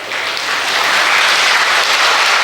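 A large audience at a district-level abacus event claps steadily and loudly for a motivational speech, a dense, even wash of applause lasting the whole moment.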